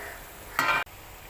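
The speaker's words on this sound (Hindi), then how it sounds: "अब हम इसमें भिंडियाँ डाल देंगे।" Okra drops into a pan of frying spice masala made with coriander, salt, red chilli and turmeric, giving one short loud sizzling burst against a faint kitchen background.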